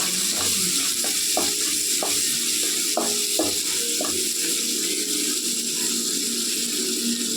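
Chopped okra sizzles and fries in a pan for a Telugu-style bendakaya curry, a loud steady hiss running throughout with a series of scraping, clacking stirs in the first half.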